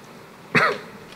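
One short, sharp cough rings out alone, close and fairly loud, against near silence.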